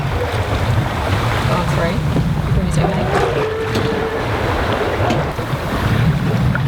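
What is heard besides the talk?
wind and waves on a sailboat under sail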